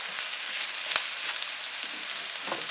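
Chicken fingers fry in oil in a pan, giving a close, even sizzle and crackle throughout, with a single brief knock partway through and no voices.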